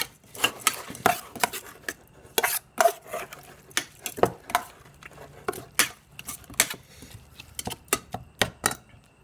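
Knife chopping chili peppers on a board while making duck larb, a run of quick, irregular thuds at close range with no talk.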